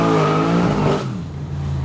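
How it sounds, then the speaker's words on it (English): A 680hp HSV VF GTS engine revving hard, a loud, deep exhaust note that holds steady and then drops back to a lower idle-like rumble, with no talk over it. "how good's this car sound?"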